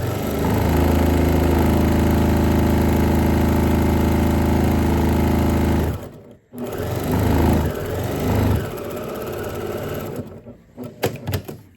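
A sewing machine stitching down a fabric bag handle with black thread, a loud, steady whirring rattle up close for several seconds, then pausing and restarting in shorter bursts.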